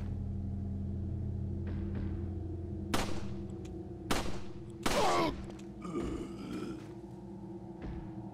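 Gunshots from a handgun in the video game Resident Evil 4, a handful of sharp separate cracks spaced a second or so apart over a low steady game hum, with no talking.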